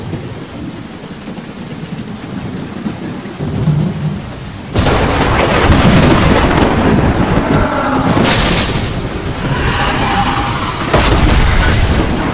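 Thunder from a lightning strike in an Indonesian superhero film, heard amid steady heavy rain, with a sudden loud crack and rolling rumble midway and further bright crashes near the end, no voices.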